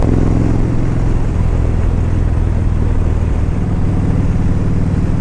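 A 2013 Kawasaki Vaquero 1700 V-twin motorcycle engine running, a loud, close, steady low rumble with an even throb that holds without revving changes and with no talk.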